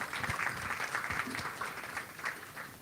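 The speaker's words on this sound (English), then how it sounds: "Please give Emma a round of applause." An audience applauds Dr Emma Shortis at a pub politics talk, with moderate, steady clapping from a crowd that carries on throughout without a break.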